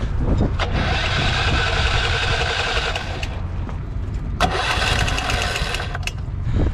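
An older backup generator engine is being started, giving two loud sputtering bursts over a constant low rumble, heard close.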